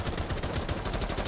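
Rapid AK-47 gunfire in the video game Rainbow Six Siege, a dense, continuous automatic burst heard at a fairly low level throughout the short clip.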